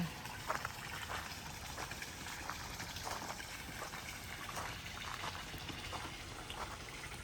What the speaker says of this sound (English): I love the water feature. I hope you can hear it.